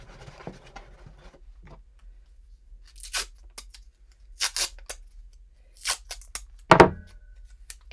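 Packing tape pulled and torn off in short bursts for sealing the edges of a cardboard box, several sharp rips and crinkles separated by quiet pauses, close and alone.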